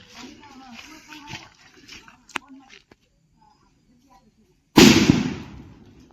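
Voices talk quietly, then after a short silence a single loud modified Lakshmi firecracker goes off close by, a sharp bang trailing into a crackling roar.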